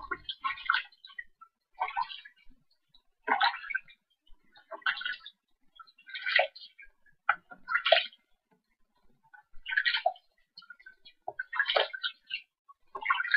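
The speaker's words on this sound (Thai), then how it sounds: "ล้างด้วยน้ำเปล่านะ" Plain water splashing in bursts as soap is rinsed off skin during a whitening body-wash routine, with irregular close splashes and trickles separated by brief quiet gaps.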